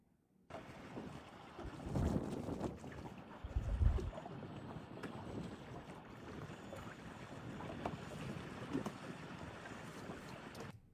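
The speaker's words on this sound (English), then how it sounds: "So one thing I hear is water" Water lapping and sloshing outdoors at night, a low, continuous wash with wind buffeting the microphone, steady at close range with a few louder surges early on.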